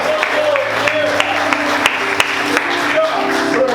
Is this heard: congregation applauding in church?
yes